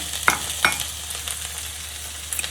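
Dragon chicken is stirred in a pan with soy sauce and a splash of water. Scraping strokes of the spatula sound over a continuous frying sizzle, with a couple of sharper clinks early on.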